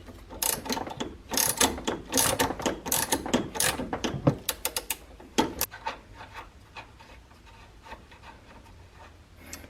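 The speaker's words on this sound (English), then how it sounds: "I'm going to go ahead and ratchet this thing" Ratchet loosening the front end link nut on a BMW M6 (F12/F13) while a Torx bit holds the stud: bursts of close, rapid clicking with pauses between, then lighter metallic fiddling as the nut comes off.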